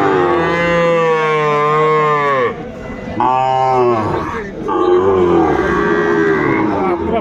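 A Sahiwal bull calf at a cattle market gives long, loud, drawn-out moos close by, with a brief pause between calls. Faint crowd chatter sits underneath.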